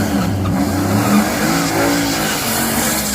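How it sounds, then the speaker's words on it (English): Drag race between a cammed Ram truck and an old-school Mustang GT, with loud, close engine roar and tire noise filling the whole stretch, no voices. "So here's the race that against the Mustang"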